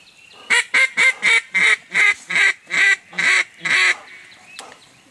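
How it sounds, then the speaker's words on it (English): Mallard ducks during a Mississippi waterfowl hunt, a close, loud run of about ten rhythmic quacks in steady succession that end with a short high squeak, as from a duck call. "Ducks everywhere."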